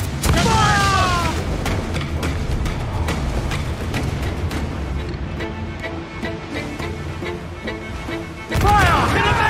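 Ship cannons fire repeatedly during a naval battle in Assassin's Creed IV: Black Flag, loud booming blasts over a continuous rumble, with game voices shouting between volleys.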